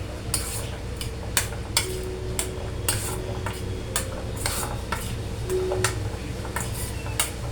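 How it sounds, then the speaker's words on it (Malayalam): A spoon stirs a peanut salad in a bowl, with repeated scraping and clinking strokes in an uneven rhythm, close and fairly clear over low background noise. "എന്നിട്ട് നമുക്കതൊന്ന് ഇളക്കാം"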